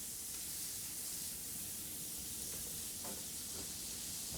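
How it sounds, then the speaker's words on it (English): Butter melting in a hot skillet gives a steady, dense sizzle with a few soft stirring scrapes, heard alone with no talking. "So to a hot skillet, I'm going to add my butter."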